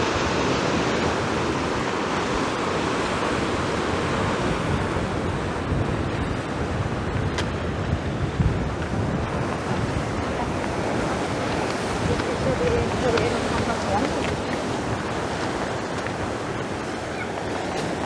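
Rough storm surf pounds a rocky beach at Morro de Gos in Oropesa del Mar, a steady loud roar of crashing waves mixed with strong wind buffeting the microphone, with no break throughout.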